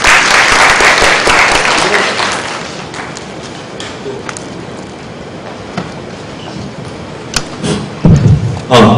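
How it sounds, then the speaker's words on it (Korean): A crowd at a tech talk on caching applauds loudly for a presenter, the clapping tapering off into scattered claps and thumps, with a voice speaking near the end. "큰 박수 부탁드리겠습니다."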